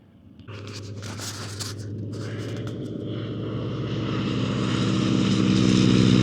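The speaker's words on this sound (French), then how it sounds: "Approche et atterrissage du P-51 Mustang." Propeller engine of a P-51 Mustang warbird on approach and landing, a steady droning hum with low harmonics that grows gradually louder and nearer throughout, with no voices.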